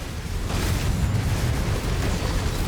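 In MechWarrior 5, a destroyed mech erupts in a dense, booming explosion, a loud rolling roar that fills the short moment without pause.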